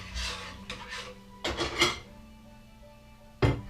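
A lid is set over a cup of thyme infusion, making a few short scraping, clinking rubs of metal or ceramic, close and fairly quiet, ending in one sharper clack.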